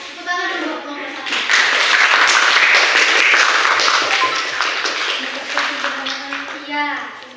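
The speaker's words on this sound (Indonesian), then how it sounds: "Tepuk tangan dulu kelompok 1." A classroom gives a presentation group a round of applause: many hands clap together for several seconds in a loud, dense burst that then fades, with voices heard just before and after.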